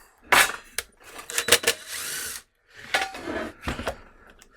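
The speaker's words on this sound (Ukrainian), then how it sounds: "Попробуємо його відкрутити." Impact driver with a DeWalt DWHJHLD bit holder backing out a wood screw whose cross recess strips, giving several short rattling bursts of hammering with brief pauses between them, close and fairly loud.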